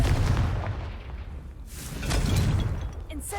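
A Confringo blasting spell cast in Hogwarts Legacy, heard as a loud, rumbling blast that swells, dips, then surges again with a deep booming roar.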